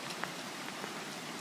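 Steady rain hisses down in a dense, even patter, close and continuous with no voices, during the 2013 Boulder flood.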